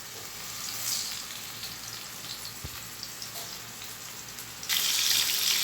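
Chicken pieces go into hot oil on a tawa for chicken tawa boti, giving a steady hissing sizzle throughout that swells suddenly louder near the end, with no talking.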